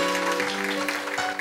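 Congregation at a Sunday church service clapping together in a steady wash of applause, with a sustained tonal hum of organ or keyboard underneath throughout.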